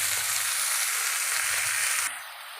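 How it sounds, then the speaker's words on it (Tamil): Spinach sizzles steadily in hot oil, a loud, even crackling hiss that drops off sharply near the end, with no voices. "கொஞ்சம் வதக்கட்டும்"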